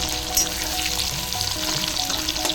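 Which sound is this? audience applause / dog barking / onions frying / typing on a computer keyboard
onions frying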